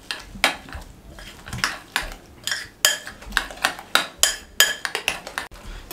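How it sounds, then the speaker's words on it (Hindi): Chopped vegetables with green chili and fresh coriander being mixed in a bowl with a utensil: a steady run of bright clinks and scraping taps, close and fairly loud, with no talk. "अच्छे से मिक्स कर लें।"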